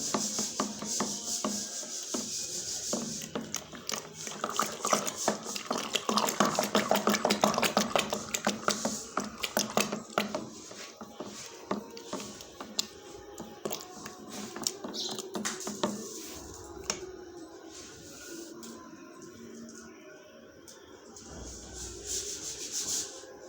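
Fresh cream is churned into butter with a traditional wooden churning stick spun back and forth, making continuous rapid rubbing and swishing that is busiest early on and then eases and thins out toward the end.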